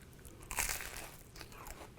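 A single crisp bite into a grilled Italian panini with meat and pesto, made on a Cuisinart Griddler GR-4N, giving a sharp crunch followed by a few quieter crackling crumbles close to the microphone.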